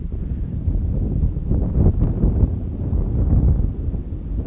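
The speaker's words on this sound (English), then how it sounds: "Gusting up a bit more now." Gusty wind buffets the microphone at an RC model flying field, a low rumbling roar that swells and eases in uneven gusts, loud and close, with no voices.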